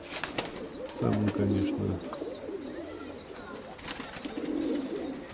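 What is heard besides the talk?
pigeons cooing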